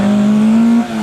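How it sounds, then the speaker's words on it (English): Renault 5 Maxi Turbo rally car on a live show rally stage, a loud close engine drone holding one steady pitch, then briefly dropping at the end. "We've got 2 or 3 of these little Renault 5 Maxi Turbos driving"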